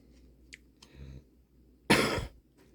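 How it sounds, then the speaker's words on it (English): A single sharp, loud cough bursts out near the microphone against a quiet room, preceded by a few faint clicks and a low murmur. "confirmation cough"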